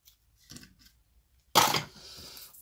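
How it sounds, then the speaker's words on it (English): A piece of ribbon is cut with scissors in one crisp, close snip after a few faint rustles, followed by a short, soft fabric whoosh. "You're going to cut your piece of ribbon."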